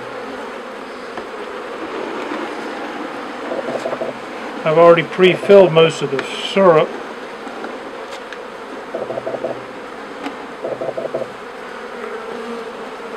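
Honeybees from a shipping package hum in a steady, close drone during a feeder check, while a person talks over the buzzing in several short stretches.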